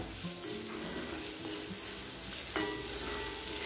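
Boiled peas and potatoes are lightly sautéed in a kadai for poha upma, with a continuous soft frying hiss and faint stirring clinks.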